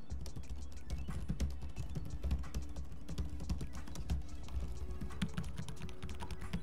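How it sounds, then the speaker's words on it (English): Fingers type on the keyboard of an ASUS Vivobook S15 laptop with a Snapdragon X Elite chip, making a steady, close stream of quick key clicks with no talking. "just so you can hear the sound of this keyboard"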